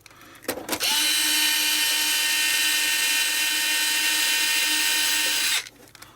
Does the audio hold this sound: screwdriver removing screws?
yes